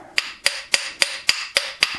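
A hammer taps a Parker bent-axis hydraulic piston motor part fitted with tapered roller bearings, giving seven evenly spaced, sharp metallic knocks in quick steady rhythm, close and clear.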